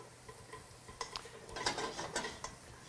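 Onions cook in butter in a pan with a soft, low sizzle, joined by a cluster of light stirring clicks and scrapes from a utensil midway through.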